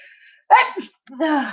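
A single sneeze bursts out close and sharp, then a short voiced follow-up sound comes after a brief pause.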